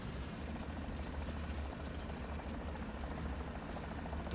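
Continuous broadband rotor-and-engine roar of a helicopter in the combat game War Thunder, steady and fairly loud throughout with no talk.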